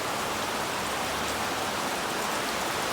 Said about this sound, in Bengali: টিনের বৃষ্টির শব্দ বেশ ভালোই লাগে তাই না